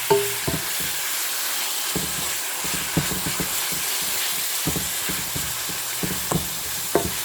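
Beef browns in a large pot for chili con carne, sizzling and hissing steadily while a utensil scrapes and knocks against the pot at irregular intervals.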